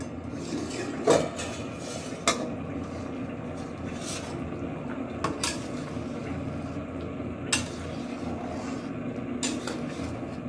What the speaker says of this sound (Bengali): ঢাকনাটা খুলে একটু নাড়াচাড়া দিয়ে দিই